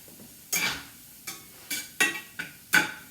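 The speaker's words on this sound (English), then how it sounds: "I'll put my onion in there and saute it" An onion sautés in a hot cast iron pan: soft, quiet sizzle broken by six sharp scraping stirs at irregular intervals, close and without talk.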